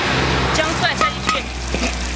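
Ginger and garlic hitting hot oil in a wok while braised hairtail fish is being cooked, a loud crackling sizzle with sharp spattering pops over a brief moment.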